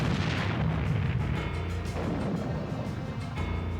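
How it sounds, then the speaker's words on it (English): A battleship's big naval gun fires with a loud, deep roaring rumble that fills the whole stretch and stays heavy throughout, with no talking. "the gun is ready to fire"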